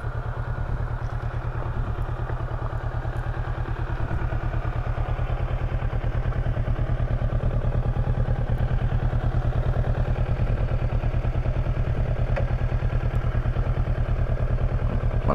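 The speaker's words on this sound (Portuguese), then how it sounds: "Manobrar a moto aqui." A 2018 Kawasaki Versys 650 ABS Tourer runs steadily while it is moved around, its mid-pitched parallel-twin engine pulsing close and continuous with a light mechanical clatter.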